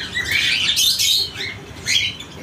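Cockatiels kept as pet birds chirp and tweet in loud, shrill bursts, a dense run of calls in the first second followed by two shorter flurries, close by with no talking.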